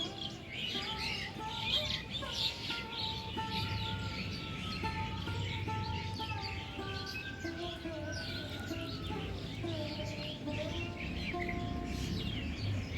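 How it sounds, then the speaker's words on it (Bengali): Many birds chirp and call continuously around an ashram surrounded by green vegetable fields, with overlapping tweets near and far over a soft outdoor ambience. "আর তার সঙ্গে শুনতেই পাচ্ছেন এই পাখিদের কলরব।"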